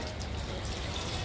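Water flows steadily from an IoT-based water pump whose motor is powered through a NodeMCU, giving a continuous, moderately quiet splashing rush with no break.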